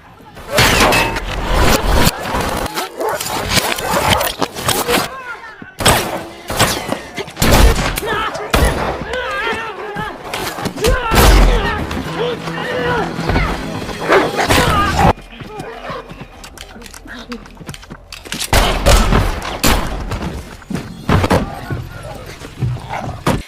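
A gunfight scene from a John Wick film, with sharp bursts of gunfire and impacts in rapid, irregular volleys, loud and close, while someone narrates over the action.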